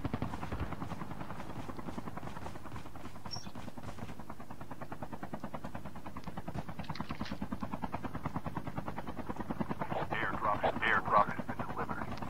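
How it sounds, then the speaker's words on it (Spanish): A helicopter in the mobile shooter game COD Mobile drones with a steady, loud rotor chop through the whole stretch while players talk over it. "Aguas con el helicóptero. ¿Qué viene el helicóptero?"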